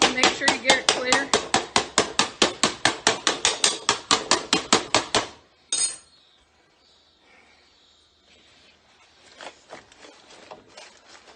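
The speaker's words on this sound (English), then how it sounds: "I normally like to take a bread knife and pound the bottom to make sure you get it clear" A bread knife pounding the bottom of a pineapple upside-down cake pan, with about two dozen rapid, evenly spaced metallic knocks, close and loud, stopping abruptly, then a single clank and a few fainter taps.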